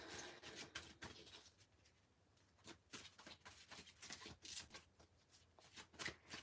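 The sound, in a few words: shuffling tarot cards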